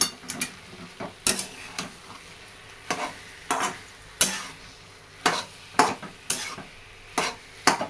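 Spices and salt being sautéed in a hot tempering in a pan, with repeated spatula scrapes and stirring strokes at an uneven rhythm over a soft, steady sizzle, close and clear with no talking.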